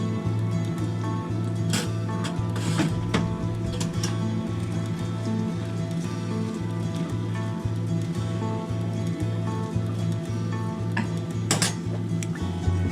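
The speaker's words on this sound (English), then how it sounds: "Now I'm cooking my green beans." Green beans cooking in a pan on a home stove, with a steady hum and constant sizzle under repeated metal clinks and stirring scrapes, all at close range.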